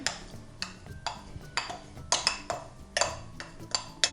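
A spoon stirs water, wheat starch and flour in a pot, knocking against the metal in regular scraping strokes, roughly two per second, close and clear with no voices.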